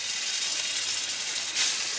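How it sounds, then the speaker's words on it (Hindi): Garlic sizzles in hot oil in a pan, a loud, continuous bright hiss with no speech over it. "ये जो लहसुन है इसको हमने थोड़ा हल्का सा ब्राउन कर लेना।"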